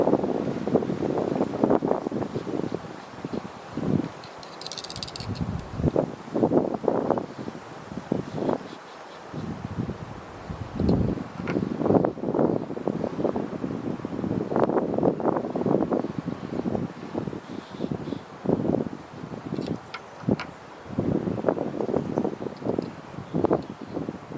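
A 2002 Yamaha FX 140 jet ski engine has just been started and runs steadily, its rumble swelling and easing in loud surges under heavy wind buffeting on the microphone, with no speech.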